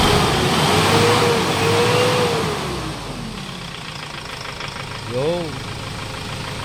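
Hyundai Starex engine with a knocking fault, revving up and settling back to a rough idle nearby while a voice speaks briefly over it.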